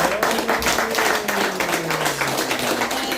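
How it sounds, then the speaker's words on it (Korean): An audience at a Korean forum gathering claps together in steady, dense applause, moderately loud and continuous for a few seconds. "다 같이 우리 한번 다시 뜨거운 박수 올려드리겠습니다."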